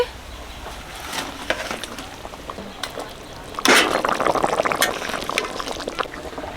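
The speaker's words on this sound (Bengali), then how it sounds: "জল দিয়ে দিচ্ছি" Water poured into a pan of frying fish, giving a sudden loud hiss and bubbling burst midway that keeps sizzling steadily to the end, after quieter kitchen clatter.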